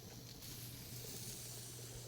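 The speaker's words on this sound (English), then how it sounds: "Get that immediate sizzle." Beef anticucho skewers sizzling on a grill, a steady close hiss of searing meat that holds evenly throughout with no talking.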